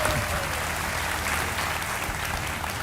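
Studio audience applause welcoming a guest onto a televised quiz show, a thick, continuous roar of clapping that stays loud and even from start to finish.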